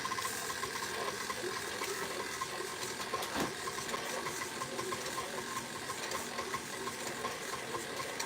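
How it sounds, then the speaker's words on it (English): An electric stand mixer runs steadily while making a pumpkin cheesecake roll filling, giving a continuous even motor whir and rumble at close range throughout, with no talking. "it's going to be a little bit loud because I'm going to start my mixer"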